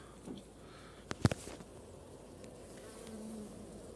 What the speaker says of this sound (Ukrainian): Да, бджоли є, бджоли набито.